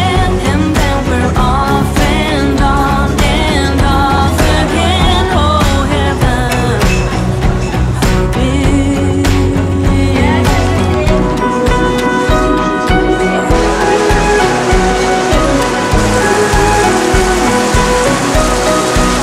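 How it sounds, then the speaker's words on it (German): Heavy rainstorm pouring down in Chinatown, Singapore: a loud, dense, unbroken roar of rain hitting surfaces close by for the whole stretch, with no voices. "Da hinten kommt gerade echt fett Unwetter."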